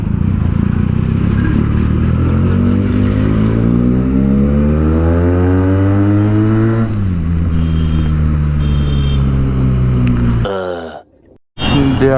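Benelli TNT 300 motorcycle engine revving hard up and down, loud and close, pitch climbing and falling in sweeping revs before cutting off sharply near the end.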